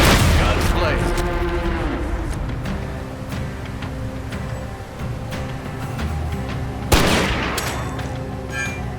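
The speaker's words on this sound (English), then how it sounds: "Guns blazing." Dense gunfire in a Hard West 2 cutscene, rapid overlapping shots and bursts rattling continuously, with a sharp loud blast near the end.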